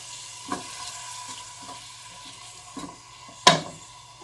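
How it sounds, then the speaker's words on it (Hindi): Sliced onion frying in half a cup of oil, a soft steady sizzle with low hum underneath, dotted with light stirring clicks and one sharper clatter near the end. "हाफ कप ऑयल लूँगी और इसमें ये मैंने एक प्याज काट लिया, 50 स्लाइस ये इसमें डालूँगी"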